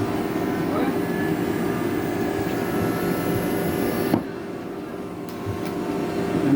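A brushless motor on an intelligent controller runs clockwise with a steady, close electric whine and hum; a brief click near the middle leaves the drone slightly softer for a moment before it carries on.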